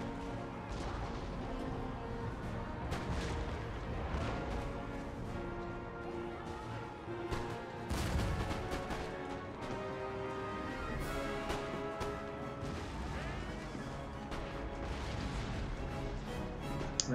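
Musket volleys and cannon fire from a battle in the Empire: Total War game, a dense continuous barrage of cracks, booms and crashes layered over battle noise at steady loudness throughout.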